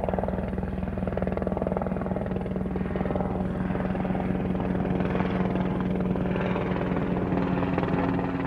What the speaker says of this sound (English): That's a military helicopter, actually.